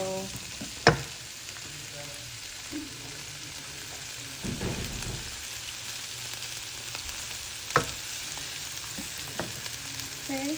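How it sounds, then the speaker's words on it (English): Sweet peppers and Jamaican Scotch bonnet pepper sauté in a pan, a soft, even sizzle with a few sharp utensil knocks and a brief stir in the middle. "saute this a little bit. I don't like mine too saggy, so I'll saute it a little before I actually add some water."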